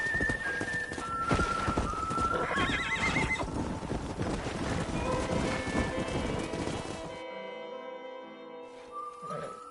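A horse in the Red Dead Redemption video game whinnies loudly and its hooves clip-clop rapidly over a busy game soundtrack, the din cutting off abruptly near the end, leaving a quieter tone.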